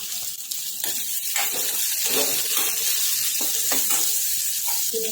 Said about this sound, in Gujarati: હવે એમાં એક ડુંગળી આપણે લાંબી સમારેલી એડ કરીશું